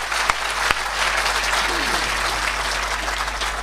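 An audience at a Hindi hasya kavi sammelan, a comic poetry gathering, applauds in a dense, even wash of clapping with a couple of sharper claps near the start and a low steady hum beneath.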